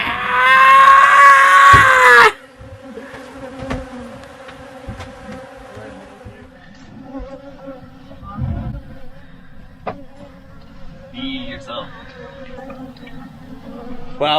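Loud, close insect buzzing fills the first couple of seconds, then fainter buzzing and scattered outdoor sounds continue at a lower level.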